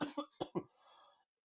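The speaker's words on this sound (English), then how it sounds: "this movie's hurting me that now I have to cough" A podcast host gives several quick, close coughs in a tight cluster of four bursts, followed by a softer trailing breath that fades into silence.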